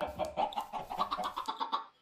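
Chickens cluck steadily in a coop in Minecraft, a quick run of short repeated clucks at moderate level with no talking.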